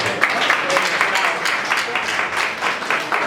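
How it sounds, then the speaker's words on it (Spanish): A church congregation gives loud, energetic applause, a thick continuous patter of many hands close by, with scattered voices mixed in beneath the clapping. "Denle un fuerte aplauso al Señor."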